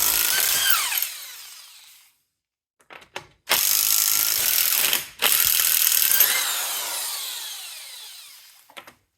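Power tool working the left-hand-threaded wheel nuts on a Bentley Mulsanne S, loud ratcheting bursts in several separate runs with short gaps and pauses between them, no talking.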